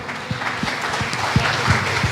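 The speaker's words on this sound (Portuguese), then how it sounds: "aplauda o nome do Senhor nessa manhã." A church congregation at a morning worship service claps in a steady, even beat, roughly three claps per second, against a continuous wash of room sound.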